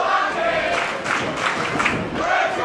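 A wrestling crowd at a Midwest independent show cheers and shouts for Brian Ash, a dense roar with rising and falling swells and scattered yells.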